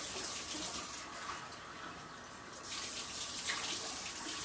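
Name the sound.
water poured into a pot of basmati rice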